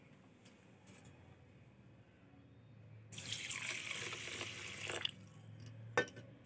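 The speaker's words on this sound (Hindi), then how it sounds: "1 कप चीनी लेंगे, उसमें 1/2 कप पानी हम डाल लेंगे" Water pouring from a cup into a cup of sugar for making sugar syrup in a home kitchen, a quiet start then a closer, louder splashing pour lasting a couple of seconds with a small clink near the end.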